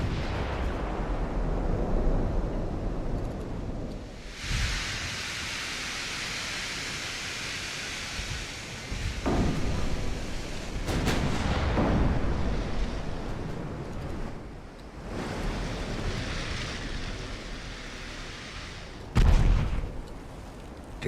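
Heavy naval main guns boom in an 1890s-era battleship battle in Ultimate Admiral: Dreadnoughts, with several loud, separate blasts spaced a few seconds apart over a constant roar of sea and wind.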